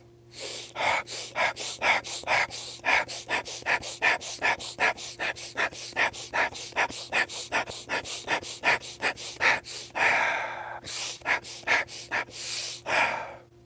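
Rapid, forceful rhythmic breaths of a breath-of-fire pranayama exercise, sharp bursts repeating steadily and close, with a brief pause near the end before a few more strong exhalations.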